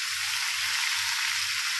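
Steady, dense sizzling of chicken curry frying in a pan as chopped tomato goes in, a continuous bright hiss with soft low stirring thumps beneath, close and even throughout.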